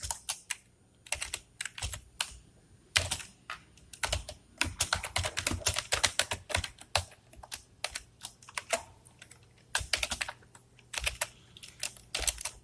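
Code typed on a computer keyboard during a data structures lecture, close clicking keystrokes in quick bursts and irregular runs with short pauses and no talking.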